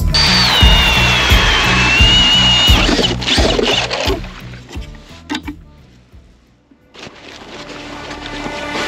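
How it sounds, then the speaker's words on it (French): A power auger drills holes through lake ice for ice fishing in Quebec, whining and grinding loudly at first, then sputtering down to a pause before the motor revs up again. "je vais percer mes trous"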